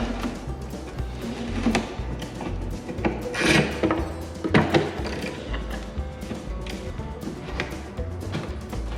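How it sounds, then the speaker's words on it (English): Window glass in a 1963-1967 Corvette coupe door being raised by hand, a close, grinding, rubbing scrape of the regulator mechanism with uneven ratcheting clicks, alone without talk. "So we're going to bring the window up until we can see"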